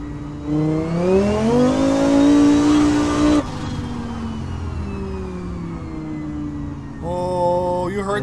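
A 1000hp Formula Drift Mustang engine revs up loudly, holds, then drops to a rough idle before a second quick rev ends with a brief rattling clatter.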